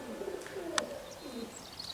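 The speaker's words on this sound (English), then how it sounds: "There's a lot of birds flying around there. Pigeons, mostly." Soft, low pigeon coos drift through a faint outdoor background on a farm, with a brief sharp click in the middle.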